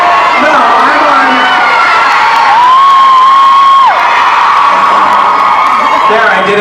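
An audience at a convention panel yells and cheers together, a loud, continuous crowd roar with shrill whoops and a few sustained higher-pitched shouts rising above it.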